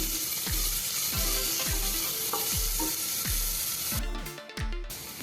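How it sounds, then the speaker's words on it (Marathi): Crushed ginger and garlic fry in a pan of oil for tomato rice, a steady close sizzle punctuated by regular knocking thumps of a spoon stirring against the pan, with no talking. "आता ह्याच्यामध्ये आपण आलं लसूण घेतलेलं आहे ते कुटून घेतलेलं आहे एक टेबल स्पूनला थोडं कमी आहे ते पण आपण फ्राय करून घेऊया"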